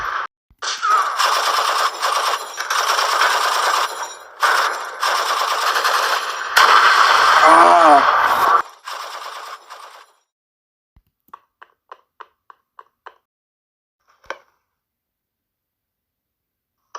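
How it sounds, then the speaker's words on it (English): Rapid bursts of machine-gun fire ring out in a LEGO stop-motion battle scene, loud rattling volleys with brief gaps, followed by a few scattered single shots and then quiet. "Gary, George, I'm gonna need some covering fire."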